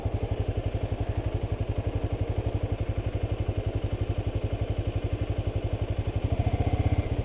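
A motorcycle engine idles close by with a steady, rapid putter that swells slightly louder near the end.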